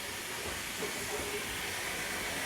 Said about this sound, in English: The tank engine is taking a special private charter around the station yard.